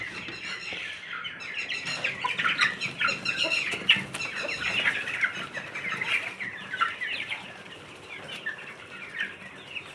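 Chickens and roosters cluck and squawk continuously at close range, a busy overlapping chorus with occasional wing flaps and no talking.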